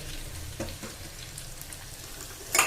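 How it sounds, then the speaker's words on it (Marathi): Grated coconut sautéing in a pan for a spinach varan, giving a soft continuous frying hiss with a few light stirring scrapes and a brighter sizzle burst at the end, close and without talk. "त्यामध्ये किसलेलं खोबरं ते टाकून द्यायचंय"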